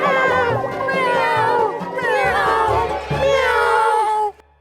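A voice imitates a cat, drawing out several wavering, high-pitched meows in a row with barely a break between them.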